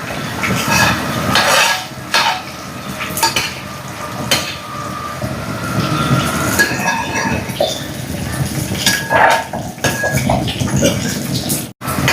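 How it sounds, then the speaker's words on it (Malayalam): Chicken curry masala is stirred in a pot with a spoon, giving steady scraping and clinking and a faint sizzle. A voice talks over the cooking sounds. "മസാലയൊക്കെ ഇട്ടിട്ട് അമ്മ നന്നായിട്ടൊന്ന് ഇളക്കി കൊടുക്കുന്നുണ്ട് കേട്ടോ."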